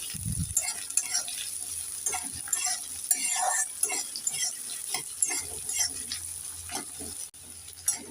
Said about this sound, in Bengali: কেটে রাখা পেঁয়াজ একটু নেড়ে চেড়ে দিয়ে দেবো